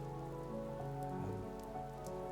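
Steady rain falls on a surface, an even dense patter over a low hum, with no voices.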